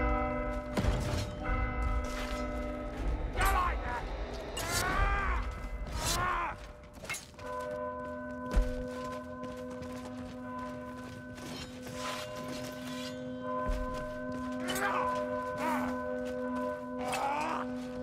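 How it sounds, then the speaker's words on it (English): Bell in the video game Warhammer Vermintide, metallic ringing tones with long sustained overtones struck several times, mixed with clanking and creaking mechanical noises. "We'll be up against it as soon as we ring that bell."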